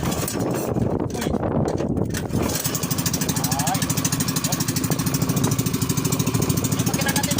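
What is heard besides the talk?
Procap boat engine running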